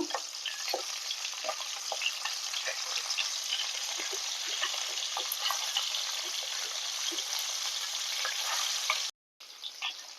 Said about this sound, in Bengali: এই ভোলা মাছটা ভাজার সময় গ্যাসের ফ্লেমটা অবশ্যই মিডিয়ামে রাখতে হবে